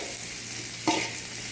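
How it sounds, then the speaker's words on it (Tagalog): Onion, garlic and ginger fry in oil left over from frying fish, giving a steady, close hiss broken by one brief stirring scrape partway through. "Gisa na natin yung sibuyas, bawang at luya"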